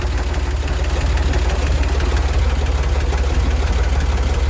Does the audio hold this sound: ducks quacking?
no